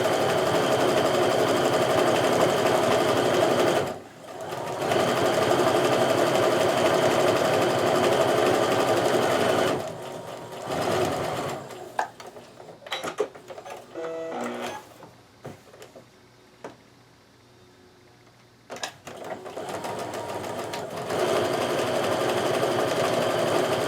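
A sewing machine runs steadily stitching a scant quarter-inch quilt seam, a continuous rapid mechanical hum with a brief pause, then stopping and starting again with softer clicks and handling of fabric.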